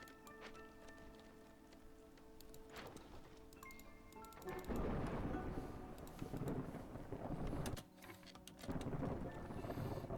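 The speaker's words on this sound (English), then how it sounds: "you can hear that rumbling thunder" Rumbling thunder in a civilization-building video game, a low rolling roar that swells in several long waves over a ticking, clicking game ambience, with no talking.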